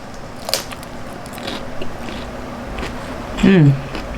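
A few crisp crunchy bites into fried shrimp sound close up, with a brief voiced murmur near the end.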